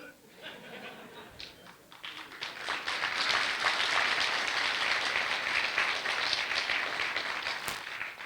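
An audience claps along through a motivational talk, the applause swelling after a quiet start and holding steady as a dense, continuous patter, with a voice faintly present underneath.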